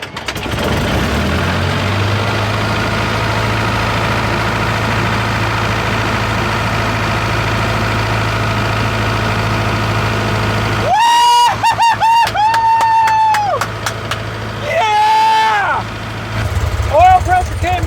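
A 79-year-old abandoned airplane's engine cranks over with a rough, continuous drone for several seconds, then sputters and catches, coughing through uneven bursts before settling into a loud, throbbing idle.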